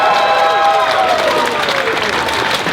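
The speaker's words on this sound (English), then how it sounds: "Applaud!" A convention panel crowd at an anime event bursts into loud applause mixed with cheers and whoops, a dense roar of clapping that holds steady through the moment.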